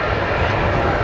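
A DHL Boeing 757 powered by Rolls-Royce RB211 turbofans flies a display at an airshow, its engines giving a loud, broad, continuous roar throughout the brief moment.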